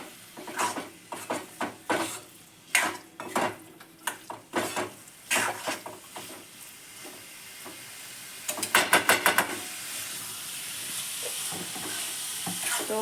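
Shrimp (jhinga) mixture stirred in a sizzling pan, with a spoon scraping and knocking in uneven strokes over steady frying hiss, followed by a quick burst of clatter and then a continuous sizzle.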